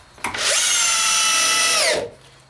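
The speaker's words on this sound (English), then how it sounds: "Now let's see how it does with some 3 inch coarse thread drywall screws." A Bosch DDB181 compact 18V drill/driver on speed setting 2 drives a 3 inch coarse thread drywall screw, a close, loud steady whir lasting about a second and a half that winds down as the screw sinks.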